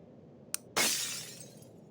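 Something breaking during a fruit experiment: a single small click, then a sharp glassy shatter whose bright crunch rings out and fades over about a second, close and loud with no talk.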